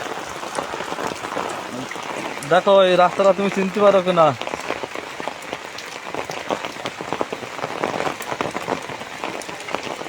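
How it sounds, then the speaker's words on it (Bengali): Heavy rain pours down across rural village fields, a dense continuous patter on surfaces nearby, while someone talks briefly over it. "প্রচুর বৃষ্টি হচ্ছে"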